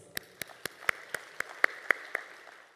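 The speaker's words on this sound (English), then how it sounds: "Please welcome him with a big round of applause." Scattered, sparse clapping at a formal opening ceremony for an investment report event, a handful of distinct claps spaced about a quarter second apart, faint and somewhat distant in a large hall.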